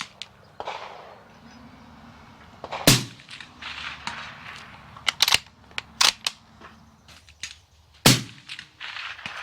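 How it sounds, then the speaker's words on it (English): A Uintah Precision UPR-15 .223 rifle fired from a tripod outdoors: two loud, sharp cracks stand well apart, with lighter clicks and handling noises between them and no voices. "Shooting off a tripod is much harder than shooting off a bipod"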